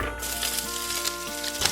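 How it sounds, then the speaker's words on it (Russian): Oil sizzles and crackles steadily in a hot pan as onion fries, with a constant electrical hum underneath and occasional stirring. "И обжариваем до золотистого цвета, перемешивая."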